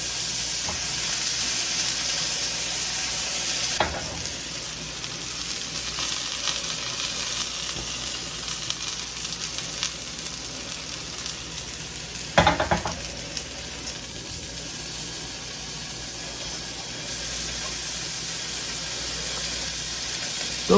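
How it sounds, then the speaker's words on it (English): Sausage and eggs frying in a pan on a butane stove, a steady bright hiss of sizzling fat running throughout, with a couple of brief clatters from the utensil or pan, no talk. "The last thing that we're going to do with the butane stove is we're going to fry some sausage and eggs."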